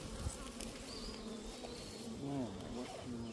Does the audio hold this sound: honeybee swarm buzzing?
yes